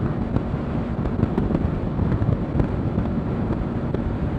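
Steady wind roaring past a motorcycle rider's helmet on the road, a continuous loud buffeting rush with gusty fluctuations and no talking.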